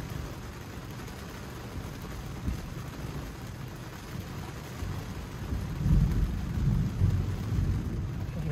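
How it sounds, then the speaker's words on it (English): Thunder rolls low and heavy outside a car in rush-hour rain, a steady wash of rainfall on the vehicle with the rumble swelling louder toward the end; no one speaks. "Okay, just heard the thunder."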